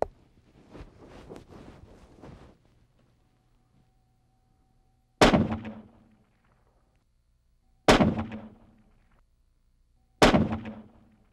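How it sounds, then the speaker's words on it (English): Rifle fitted with a Browning BOSS muzzle system fires three loud, sharp shots spaced a few seconds apart, each with a quick decaying tail, after some faint handling noises. "Pick a single target and fire a three-shot group."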